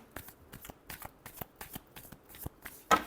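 Tarot cards are shuffled in a quick, crisp riffle of about nine rapid bursts, close and fairly quiet, ending on a sharper final slap as the deck is squared.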